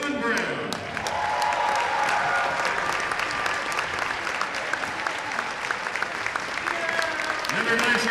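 Sustained, dense applause from a crowd in a gymnasium at a boys basketball game, honoring the 1963 state champion Republic Tigers team; continuous clapping at moderate volume that carries on without a break.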